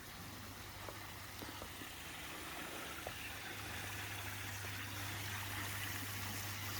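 Steady rush of a koi pond waterfall splashing continuously, with a low mechanical hum underneath and no voices.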